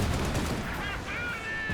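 Machine gun fire in the real-time strategy game Company of Heroes 2, from a base MG emplacement: a short dense burst of rapid gunfire mixed with other battle noise, heard alone without talk.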